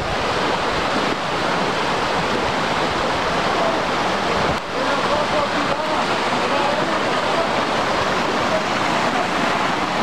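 Water rushing and falling at Plitvice Lakes in Croatia, a steady dense roar filling the whole stretch with slight wind noise, loud and close.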